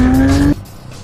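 A 1300 hp turbocharged, ethanol-burning Porsche GT2 screams close by at high speed with a loud, steady engine tone for about half a second, then abruptly drops away to a faint, low rumble.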